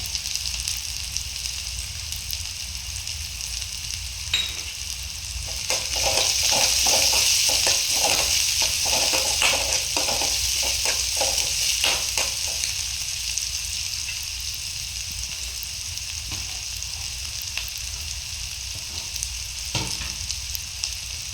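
Garlic fries in a pan for dried anchovy thokku, giving a continuous close sizzle. Stirring adds a run of sharp crackles and scrapes in the middle before the frying settles back to a steadier hiss.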